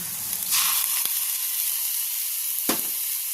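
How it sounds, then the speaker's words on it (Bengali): Ginger garlic paste hits browned fried onions in hot oil, setting off a bright, loud hiss that holds steady, with a few sharp spatula clicks against the pan. "এবার আমি এর মধ্যে আদা রসুনের পেস্টটা দিয়ে দিচ্ছি।"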